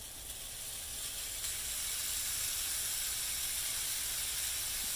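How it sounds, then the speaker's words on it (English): Ground beef browning in a skillet for chili mac gives a steady, bright sizzling hiss that builds slightly and then holds evenly, with no voices. "put some ground beef in the skillet and"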